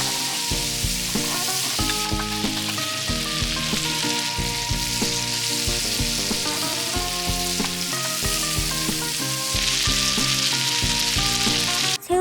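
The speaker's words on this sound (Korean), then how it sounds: "버터 20g에 다진 마늘 1큰술 넣고 마늘이 타지 않게 볶다가 새우와 소금 한 꼬집 넣고" Shrimp heads with a pinch of salt and minced garlic fry in butter, giving a steady, continuous sizzle with a broad hiss beneath loud background music for the whole stretch.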